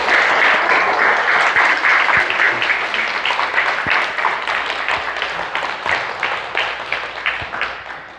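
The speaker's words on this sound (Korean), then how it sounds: "여러분들 이렇게 아주 뜨겁게 박수로 환영해 주시기를" A church congregation gives a pastor a loud, sustained round of applause in welcome, a dense wash of many hands clapping that lasts several seconds and fades slightly toward the end.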